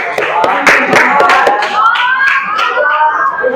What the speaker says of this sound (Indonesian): tepuk tangan buat Agung